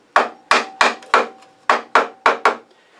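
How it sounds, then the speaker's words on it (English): Eight sharp wooden taps strike a wood-turned medallion ornament to knock it loose, evenly spaced and close, each with a short ringing decay, with no voices. "now we're just going to tap on it and see if it'll tap out"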